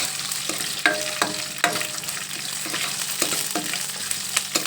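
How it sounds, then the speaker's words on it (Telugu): Carom seeds (ajwain) frying in a pan and being stirred steadily, with a continuous sizzle broken by repeated scraping clicks of the spoon against the pan, close and fairly loud, with no talking. "బాగా కలుపుతుండాలి, లేదంటే వాము మాడిపోతుంది."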